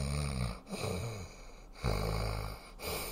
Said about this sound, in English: Oh, I'm sorry. Was I snoring?